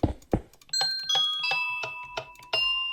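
Bright chime-like notes from Minecraft note blocks ring out one after another, stacking into a minor chord with a steady plucked rhythm.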